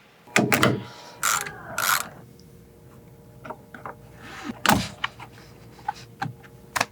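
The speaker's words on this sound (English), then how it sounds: "use a T50 in order to unscrew that bolt" A ratchet driving a T50 Torx bit unscrews a seatbelt bolt on the B pillar of a 6th-generation Ford Ranger, giving several separate bursts of clicking spread across the clip with quieter handling noises between them, close up and with no one talking.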